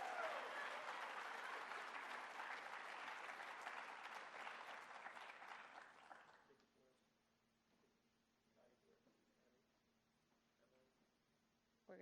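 Audience at a high school senior awards ceremony applauding honorees, a broad burst of clapping for about six seconds that fades sharply, leaving a quiet room with faint scattered sounds.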